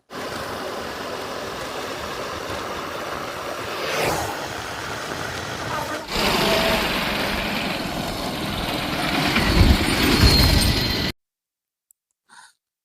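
A motorbike riding along a road toward the Medaram Sammakka Sarakka jatara, with a steady engine drone and wind rush that swells a few times, then cuts off abruptly into near silence.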